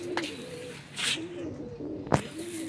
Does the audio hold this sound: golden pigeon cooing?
yes